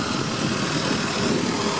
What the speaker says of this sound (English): Engine runs really nice.